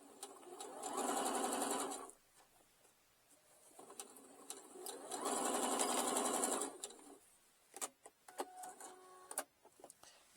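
A sewing machine stitches a seam on a pouch made from a placemat in two loud, close bursts of rapid, even stitching a couple of seconds each, separated by quiet, followed by scattered clicks and handling.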